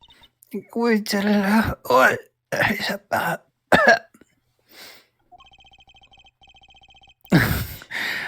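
Several short cough and throat-clearing bursts mixed with garbled voice-like chirps in Apollo Justice, followed by a brief run of steady electronic beeping and one last loud cough.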